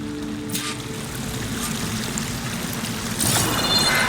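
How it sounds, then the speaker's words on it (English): Steady rushing pour of a waterfall in the video game Horizon Forbidden West, a continuous broadband wash of falling water that swells louder near the end, heard alone. "The waterfall must be coming from somewhere."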